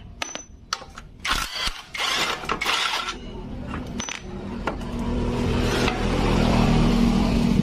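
Bolts are loosened and tools clink while the brake on a Vario 125 injection motorcycle with an oil leak is taken apart, giving sharp metallic knocks and ratchet clicks. A steady mechanical hum builds underneath toward the end.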